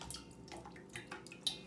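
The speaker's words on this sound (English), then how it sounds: "So you're just going to let that drain a little bit" Water trickles and drips from a mass of wet pulp left to drain, a soft, close, irregular patter with a few sharper drops standing out.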